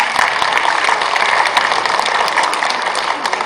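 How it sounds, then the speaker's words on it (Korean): Audience applause fills a general meeting of a girls' high school alumni association, steady dense clapping from a sizable crowd held at an even level throughout. "회원과 회원님들 네 박수 부탁드립니다"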